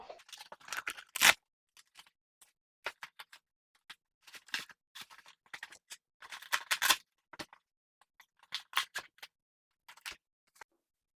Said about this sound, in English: so I'm inserting the rods through and then closing the Velcro